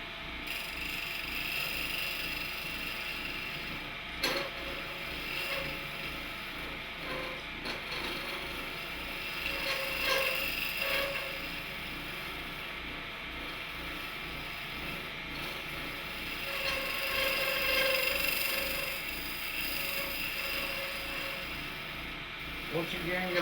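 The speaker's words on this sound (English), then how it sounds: "And now to take the tear out of the top of the goblet, I'm once again using my straight edge scraper." A straight edge scraper cuts the top of a wooden goblet turning on a lathe, giving a steady scraping hum with occasional clicks and knocks over the motor drone.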